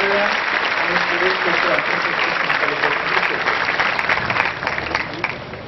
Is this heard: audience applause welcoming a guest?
yes